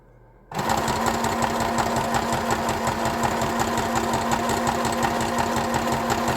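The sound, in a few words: sewing machine sewing a zigzag stitch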